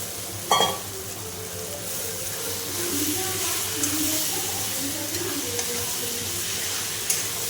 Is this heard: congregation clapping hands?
no